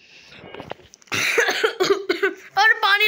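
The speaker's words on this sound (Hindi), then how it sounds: "मुझको खांस हो गया" Someone coughs a few times while playing the climbing game Getting Over It, with loud, close bursts of voice and talk-like sounds following the coughs.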